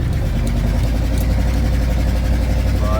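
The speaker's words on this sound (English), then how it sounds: "She's pretty loud. The exhaust, got a couple leaks in the exhaust." A 1977 Dodge Power Wagon truck engine with a couple of exhaust leaks drones loudly and steadily nearby, a low continuous rumble with faint higher squeaks over it.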